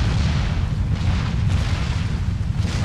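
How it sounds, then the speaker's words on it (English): Mortar fire and explosions from Empire: Total War during a battle in a Maratha campaign, a dense, continuous low rumble of booms rolling together without clear separate blasts, loud and with no speech. "I do have to be careful of shooting my own men with the mortars now"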